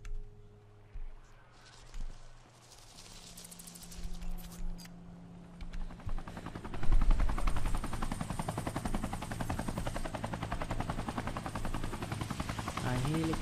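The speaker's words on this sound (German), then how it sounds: "Ein Helikopter." A helicopter in the video game Hitman Absolution comes in after a quieter stretch and holds as a loud, continuous rotor chop through the second half, with scattered game effects early on.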